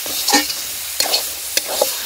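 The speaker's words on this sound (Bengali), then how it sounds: "দেখুন হালকা করে গরম মশলা দিয়ে দিলাম, দিয়ে আর একটু নেড়ে নেব।" A spatula scrapes and stirs taro stems and prawns with garam masala in a nearly dry wok, giving a few distinct scraping strokes over a faint sizzle.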